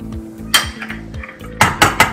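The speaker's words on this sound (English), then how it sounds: "Crack a couple eggs." Eggs cracked against a pan with butter in a kitchen, several sharp taps and clinks of shell on metal, close and distinct, with no talking.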